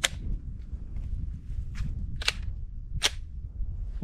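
Sharp, cracking reports from a .44 Magnum revolver fired at a target about 95 yards away, four or five shots spaced irregularly over a low outdoor rumble, with no talk.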